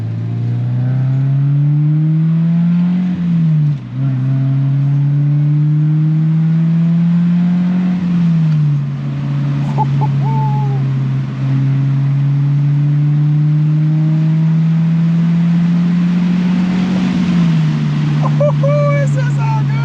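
A truck making about 200 wheel horsepower with a single exhaust outlet drones loudly and up close, its engine pitch climbing and dipping through repeated accelerations, with occasional voices underneath.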